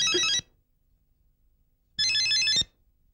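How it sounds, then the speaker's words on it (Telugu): A phone ringtone plays two short bursts of bright, repeating electronic tones separated by about a second and a half of silence. "ఉండు, ఫోన్ వచ్చింది"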